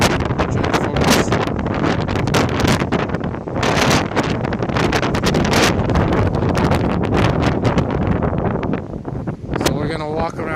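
Strong wind buffets the microphone with loud, continuous roaring and gusting rumble at the top of Saint Joseph Oratory, steady throughout with brief lulls and a faint voice near the end.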